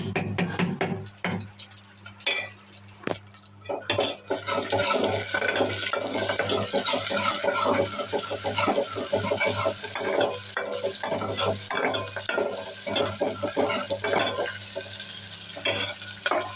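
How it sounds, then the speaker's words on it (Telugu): Talimpu tempering sizzles and fries in a pan while a utensil stirs and scrapes it, a steady close crackle with clattering metal knocks, for dal and children's tiffin. "ఇదిగోండి తాలింపు అయితే వేసేస్తున్నాను"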